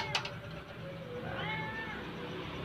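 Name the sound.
pet cat meowing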